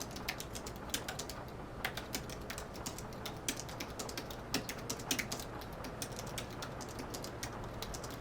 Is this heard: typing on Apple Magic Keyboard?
yes